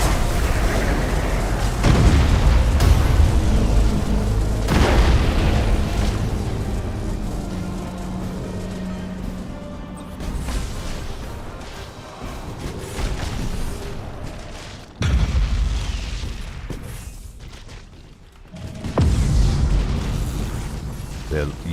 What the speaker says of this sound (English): Launching the boarding pods